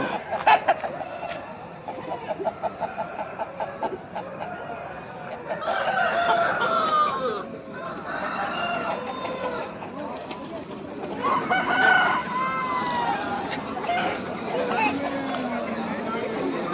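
Many chickens cluck and chatter together at the Pileru chicken market, with roosters crowing now and then over a busy background of people talking.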